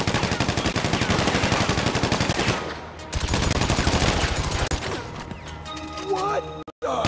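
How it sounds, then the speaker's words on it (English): Sustained rapid gunfire from cover fire in GTA Online, loud dense bursts of automatic weapons with brief gaps, ending in a sudden cutoff, with voices mixed in. "Lay down some cover fire."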